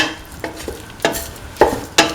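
Rice with green peas, tomato, snake gourd and spice mix being stirred in a pan, giving a handful of scraping clinks at irregular intervals over a faint sizzle, close and fairly loud.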